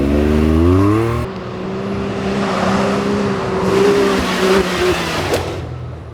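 A Corvette engine roars loud and close, revving up through rising harmonic sweeps before settling into a sustained hard-accelerating drone as it charges toward a 110-foot jump.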